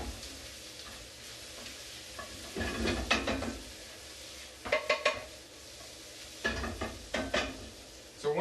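Onions cook in a pan with a faint sizzle underneath as a utensil stirs and scrapes in several short bursts, close and moderately quiet, with no talking.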